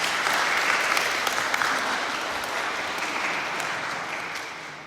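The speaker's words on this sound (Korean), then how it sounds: "박수로 환영해 주십시오." A church congregation applauds to welcome a pianist at a Sunday worship service, a steady dense wash of clapping from many hands that holds for several seconds and slowly fades near the end.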